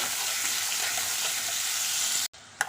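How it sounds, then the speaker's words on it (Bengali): Chopped onions sizzle and fry in oil in a kadai, a steady dense hiss close up with faint stirring scrapes, briefly cut off near the end before resuming. "এখন ওই একই কড়ার মধ্যে দিয়ে দিচ্ছি পেঁয়াজ কুচি পেঁয়াজগুলোকে ভালো করে ভেজে নেব"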